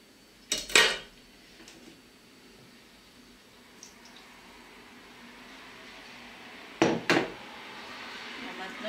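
A fork knocks against a bowl of egg and parsley batter for homemade beignets: two short metallic clinks, one early and one near the end, with a quiet background in between.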